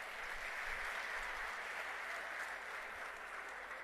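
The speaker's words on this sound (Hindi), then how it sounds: "आप दोनों का हरियाणा की धरती के इस कुरुक्षेत्र में जोरदार तालियों के साथ स्वागत है" Applause at a political rally in Kurukshetra, Haryana, welcoming politicians: a steady, even wash of clapping from a crowd, heard faint and distant throughout.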